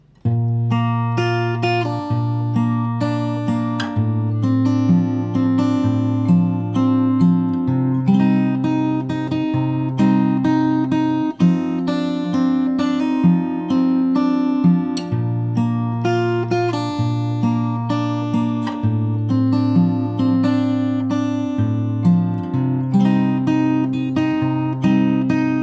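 A fingerpicked acoustic guitar plays the full first verse of a song, with steady plucked bass notes under ringing arpeggiated melody notes in a continuous, even rhythm, close-miked and alone without voices.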